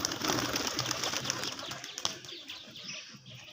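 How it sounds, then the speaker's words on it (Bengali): Tumbler pigeons take off and flap their wings in quick, rustling bursts close by, the fluttering loudest at first and then thinning out to softer flaps. "দেখো তো কিছু বাজি পায়রা আছে, বাজির পায়রা"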